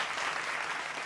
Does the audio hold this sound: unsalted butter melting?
no